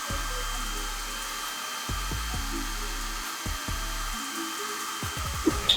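A hair dryer blows on hair in steady bursts, its whirring motor cutting on and off several times, close and fairly loud.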